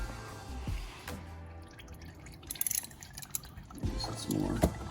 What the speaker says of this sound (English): You should start getting some oil drippage.